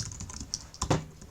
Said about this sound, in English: I can still hear myself typing